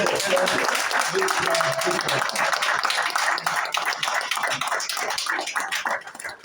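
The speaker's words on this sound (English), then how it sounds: "let me just invite the people who are here with us to give you a round of applause" Audience applause at a Mandela Washington Fellowship gathering, a dense, steady crowd clapping that stays loud throughout and thins slightly near the end.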